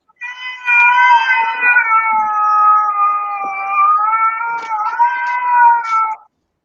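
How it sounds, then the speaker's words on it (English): A cat meows and caterwauls in one long, drawn-out, wavering yowl lasting several seconds, loud and close, with no one speaking over it. "Is that a cat?"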